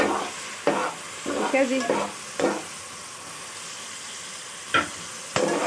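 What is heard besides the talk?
meat being stirred and fried (bhuna) in a pot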